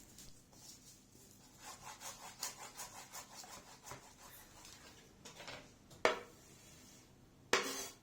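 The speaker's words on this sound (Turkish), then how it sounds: "Bir demet maydanozu da mümkün olduğunca ince ince doğruyorum" A knife chops a bunch of parsley very finely on a board, giving a run of quick close rhythmic taps and scrapes, with a few louder knocks near the end and no talk.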